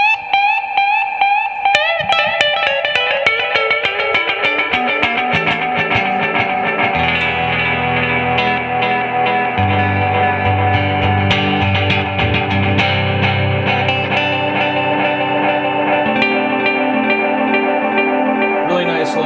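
A Korg SE-300 stage echo is blended with spring reverb on a played instrument, giving sustained layered tones with trailing repeats and a lush reverberant wash. The sound stays full and continuous throughout.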